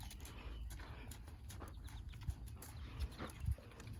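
A young mare on her first long-line training session trots with faint, fairly distant hoofbeats in a steady rhythm, a few thuds standing out toward the end.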